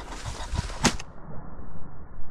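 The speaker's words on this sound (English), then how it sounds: "Pretty tough to come beat on the cackle of a rooster" A wild rooster pheasant gives a brief, harsh cackling call at mid distance in an outdoor hunting field, a sharp burst standing out over light background noise.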